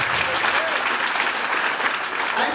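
A church congregation bursts into sustained, dense applause that stays steady and loud throughout, with a voice faintly audible beneath the clapping.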